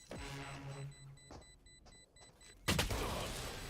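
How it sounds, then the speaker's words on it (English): A flashbang goes off in a Valorant match: a loud, sudden burst near the end, preceded by quieter tonal beeps and brief clicks. "Flashbang."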